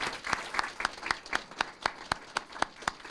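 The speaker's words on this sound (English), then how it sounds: "can we give them another big round of applause" Steady, evenly spaced handclaps at a city council meeting, beating in a regular rhythm for about three seconds; moderately quiet and with no voices over it.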